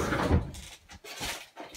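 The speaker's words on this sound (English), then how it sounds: "And we're going to close the door." A door of an abandoned house swings shut, giving a brief close knock and scrape followed by a few softer rattles, heard nearby and fairly quiet.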